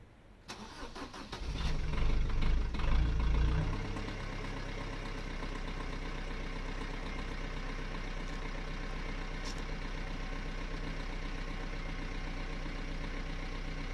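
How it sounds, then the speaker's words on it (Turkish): Fiat Linea car engine cranks and starts with a loud surge, then settles into a steady, even idle that continues to the end. "şimdi kontra basıyorum"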